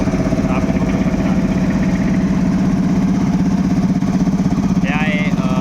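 A 7 HP tractor with a CRDI engine and 16/28 tyres idles at a steady, loud, rumbling chug, running two compressors while digging a well, with a short higher whine near the end.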